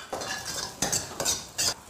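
Ginger, scallion and garlic tossed into a hot iron wok with scrambled egg, four quick scraping spatula strokes over a soft sizzle.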